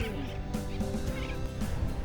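Sooty terns calling on Bush Key in the Dry Tortugas: a loud, dense, continuous chorus of harsh, nasal squawks that repeat and overlap close by.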